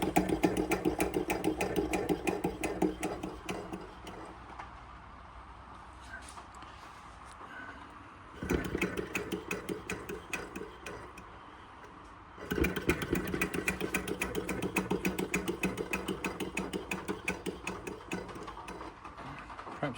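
Repaired George Carette Stirling engine running with a rapid rhythmic mechanical ticking and clatter that fades for a few seconds then returns, close and fairly quiet.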